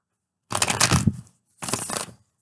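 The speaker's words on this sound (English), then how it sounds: "A couple more shuffles." Two brisk bursts of tarot cards being shuffled, riffling close up with a short pause between them.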